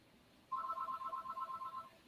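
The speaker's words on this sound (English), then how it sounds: "I apologize for the phone ringing in the background." A telephone rings in the background during a live online life-sciences thesis competition, with a steady warbling electronic ring that starts about halfway through and repeats in quick pulses, moderately faint and alone with no talk.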